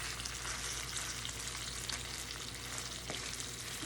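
Chicken tenders fry in a pan, giving a dense, continuous close-up sizzle with light crackling and no pauses.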